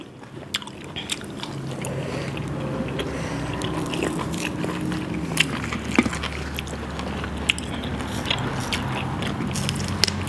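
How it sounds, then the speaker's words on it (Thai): Someone chews crunchy field snails in khee lek (cassia leaf) curry, giving close, steady wet crunching and biting with occasional sharper cracks throughout. "กรุบดีดีจ้ะหอย"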